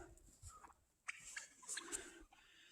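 Wild turkeys gobble in the woods: several quick, warbling bursts at moderate distance, broken by short pauses over a quiet outdoor background, with no talking.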